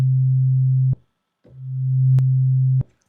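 Voltage Modular synthesizer playing a steady low sine-like tone with a slower envelope attack, two held notes, the second swelling up gradually before cutting off, each release ending with a faint click.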